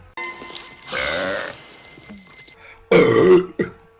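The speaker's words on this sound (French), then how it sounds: "t'as roté. Et après moi j'ai roté." Two throaty burps, one long and drawn out, then a shorter voiced one, separated by quiet moments with a few small mouth noises.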